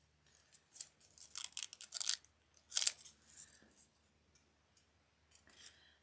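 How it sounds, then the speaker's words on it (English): Scissors snip through folded paper card in a run of crisp, close cuts, a quick cluster of clipped strokes followed by a few scattered snips with pauses between. "Snip the ends"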